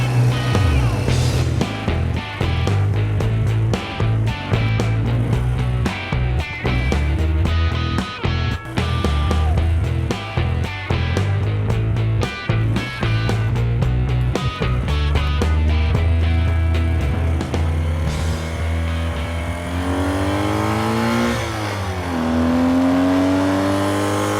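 Motorway traffic on the Austrian A2 between Vienna and Slovenia, a dense continuous roar of engines and tyres with vehicles rushing past one after another, loud and close, and a rising engine whine toward the end.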